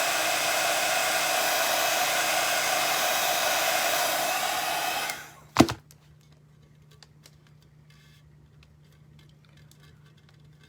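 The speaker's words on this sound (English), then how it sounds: "I'm just going to give them a quick heat to make sure that they're well" A heat tool blows hot air steadily and loudly over decorations on a terracotta plant pot, then cuts off after about five seconds, followed by a sharp click and quiet room tone.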